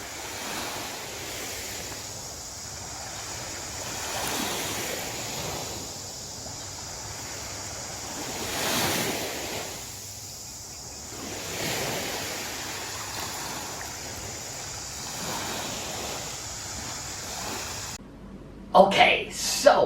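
Sea waves break on the shore in slow repeating surges under steady wind noise, the surf swelling and receding for a long stretch before a brief different sound at the end.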